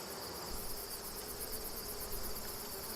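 Steady, dense insect hum from honeybees inside a brood-heavy hive during an inspection, a continuous close buzz with no pauses and no voices.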